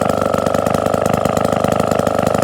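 A small single-cylinder engine on a 1954 Atco Midget lawnmower with a Villiers engine idles steadily and loudly close by, with a fast, even putter throughout and no voices.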